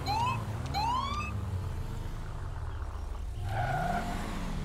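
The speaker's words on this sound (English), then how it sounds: "Turn off the siren." A police car siren wails in the LSPDFR police mod for GTA V. It sweeps up and down in repeated rising cycles against a constant rumble of engine and traffic, loud and fairly close, with no talk.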